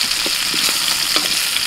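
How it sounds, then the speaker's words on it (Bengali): Potatoes fry with salt and turmeric powder in a pan. A loud, steady sizzle runs throughout, broken by light scraping knocks as they are stirred. "লবণ, হলুদ গুঁড়ো, প্রায় মিনিট 5 সময় নিয়ে আমি আলুগুলোকে ভেজে নিয়েছি।"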